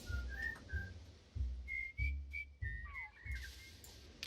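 Villagers whistling in the video game Godus, short tuneful whistled phrases repeating over a low rhythmic game music bed, moderately quiet with no talking.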